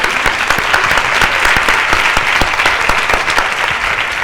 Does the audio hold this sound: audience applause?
yes